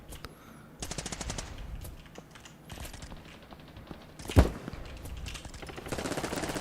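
Video game gunfire rattles out in rapid automatic bursts with a sharper single blast, mixed with faint clicking of controls and no talk.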